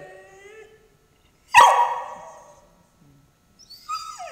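A dog gives a single loud bark or yelp during a settling and training session indoors, with short faint whimpers and whines before and after it.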